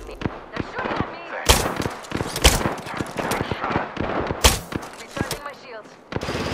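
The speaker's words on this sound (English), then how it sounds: "They're shooting at me." Gunfire in the video game Apex Legends: repeated sharp shots and short automatic bursts in irregular clusters, loud and close, with game voice lines mixed among them.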